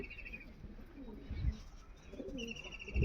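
Pigeons coo in low, throaty bursts near the start and end, one a male pigeon calling, with faint chirps and soft background noise.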